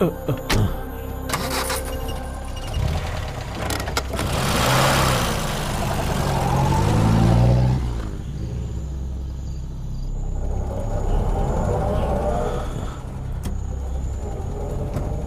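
A car engine runs steadily while the vehicle is driven, a continuous mid-pitched rumble that swells in the middle and then settles, heard alone without talk.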